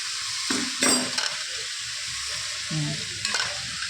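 Tomato tipped into vegetables frying in a pan for veg chow mein: a steady sizzle with intermittent stirring knocks and utensil clinks against the pan.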